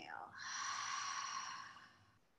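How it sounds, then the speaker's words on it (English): A long, audible cleansing exhale during yoga breathwork, a soft breathy rush close to the ear that swells and then fades over about two seconds. "Cleansing, audible exhale"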